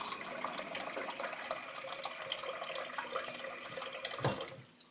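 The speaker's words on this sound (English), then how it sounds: "I'm going to fill this with some cold water" Cold tap water runs into a small bowl, a steady close splashing trickle that fades out at the end.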